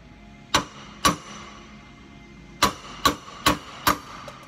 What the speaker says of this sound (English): so I can hit with a hammer and not break them